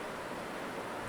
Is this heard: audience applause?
no